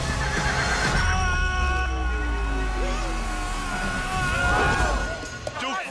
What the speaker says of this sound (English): Where's that damn horse at?